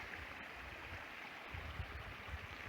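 A creek flows beside South Fork Trail, a continuous rushing water noise with a low rumble, steady and fairly close, with no talking.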